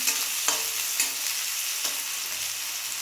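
Onion frying in oil in a pan with asafoetida, a steady close sizzle with a few soft stirring knocks, no talking.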